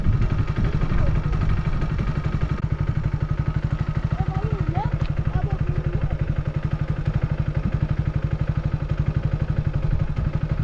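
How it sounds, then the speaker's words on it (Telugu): A Hero HF Deluxe 100cc motorcycle idles in neutral after starting, its single-cylinder engine putting out a steady, rapid low thump with a clattery mechanical edge. The sound stays close and even throughout, with faint voices in the background. "ఇప్పుడు బండిని న్యూట్రల్లో పెట్టి బండిని అయితే స్టార్ట్ చేస్తున్నాను చూడండి."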